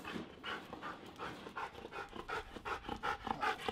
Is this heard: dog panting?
yes